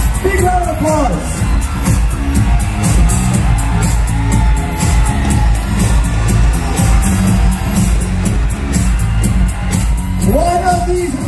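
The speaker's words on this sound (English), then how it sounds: "Big round of applause" Audience applause and cheering fill the hall at the Mr. International Philippines 2023 coronation night as the top 25 are announced, a dense, steady roar of clapping with a few whoops that stays loud throughout.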